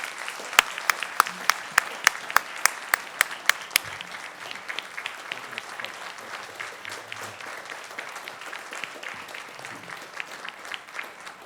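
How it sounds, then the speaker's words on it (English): An audience at the 2013 Presidential Forum on Tourism applauds President Yoweri Museveni. A few sharp, distinct claps open, then the clapping thickens into a steady, moderately loud ovation. "Please, a big round of applause."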